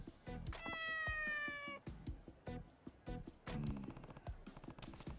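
A cat in the video game Like a Dragon: Ishin! meows twice, long drawn-out cries with a gravelly, old-sounding tone, close and clear over a soft background.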